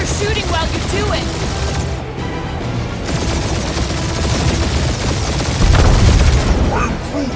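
Bursts of rapid gunfire crackle through a firefight in Marvel's Guardians of the Galaxy, dense and loud over a busy game mix, with a heavier blast near the end and characters talking during the shooting.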